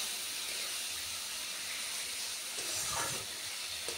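Spice paste (masala) with ginger and garlic frying in a pan gives a steady, close hiss and sizzle, with a few louder crackling bursts near the end.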